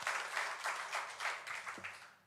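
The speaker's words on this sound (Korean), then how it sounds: "우리 하나님께 영광의 박수 올려드리겠습니다." A church congregation claps together in sustained applause that swells in waves, then fades out toward the end.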